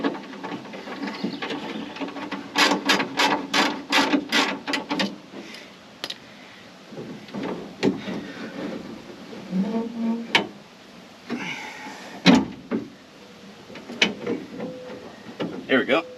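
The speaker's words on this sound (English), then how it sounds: "Use the crank itself to line up these bolt holes." A 1968 Pontiac Firebird door window regulator crank turns in a rapid series of close ratcheting clicks, then gives scattered mechanical clunks and scrapes from inside the door, with brief talk in between.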